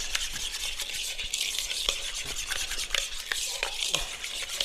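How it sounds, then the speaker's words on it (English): Coleslaw dressing is stirred and mixed in a bowl, making continuous soft wet scraping and swishing with quick, irregular strokes, close and fairly quiet. "At this point, we just want to mix this dressing up."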